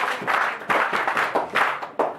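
A group at a World AIDS Day gathering in Cameroon claps in loose, rhythmic bursts, roughly one strong beat every half second, close and fairly loud with no other sound between the claps.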